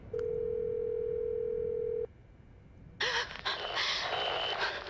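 Telephone dial tone from a handset in Silent Hill: Shattered Memories on PS2, a steady single tone lasting two seconds, then cut off, followed by breathy noises and soft rustling.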